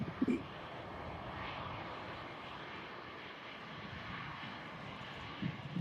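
A Lufthansa airliner arrived from Munich vacates the runway, its engines a steady, distant broadband rumble that holds evenly throughout with no talk over it.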